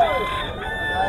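A stag rooster held in hand at a gamefowl market crows once, close and clear, a short strained call over a quiet background.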